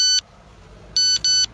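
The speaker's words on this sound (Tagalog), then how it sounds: "You got a text from my wife." A phone text message alert sounds as three loud, close electronic beeps: one, a pause, then two in quick succession, over a low rumbling background.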